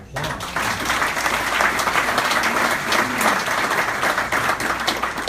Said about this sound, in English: So I think that commands a round of applause.